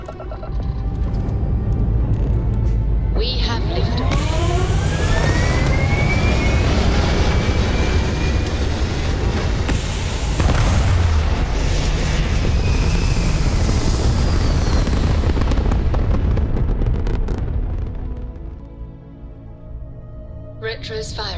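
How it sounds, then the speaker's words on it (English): A spaceship lifts off in Starfield with a loud, sustained rocket roar. Rising whine tones sweep through it, and the thrust fades into a lower rumble near the end. "We have liftoff."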